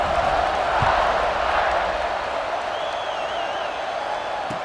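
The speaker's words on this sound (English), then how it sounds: "this crowd is buzzing after that last score" Crowd noise in EA Sports College Football 26 after a touchdown, a steady loud roar of cheering and buzzing fans that holds throughout, with a thin whistle-like tone partway through.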